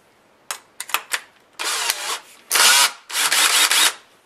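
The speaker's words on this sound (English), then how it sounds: "You'll need a drill to mix this paint and a mixer." A power drill with a mixer attachment stirs paint in short bursts, first a few quick triggers, then three longer whirring runs, close and fairly loud.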